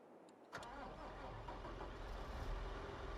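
A click, then a tractor engine in Farming Simulator 22 turns over and settles into a steady, low idling rumble that continues to the end.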